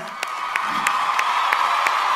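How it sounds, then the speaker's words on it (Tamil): An awards show audience gives sustained applause and cheering for director Vijay Milton, a dense wash of clapping with occasional whoops and shouts rising above it throughout. "மில்டன் சார் அவருக்கு ஒரு பெரிய கைத்தட்டில் கொடுங்க"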